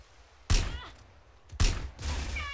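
Two sharp, booming gunshot blasts about a second apart in GTA San Andreas multiplayer, each followed by a ringing tail, loud and punchy like game gunfire.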